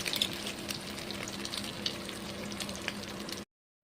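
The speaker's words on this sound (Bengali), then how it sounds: "তো তেল গরম হয়ে গেছে, এবার আমি ডিমের এই মিক্সচারটা দিয়ে দেবো এর মধ্যে।" Egg mixture hits hot oil for an omelette curry, giving a constant close crackling sizzle that runs for a few seconds before cutting off abruptly.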